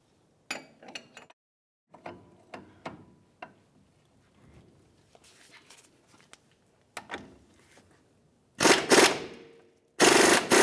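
A wrench works on the strut nuts of a 2005-2010 Dodge Dakota front strut assembly. Scattered sharp metallic clicks and rattles are followed by two loud, harsh bursts near the end.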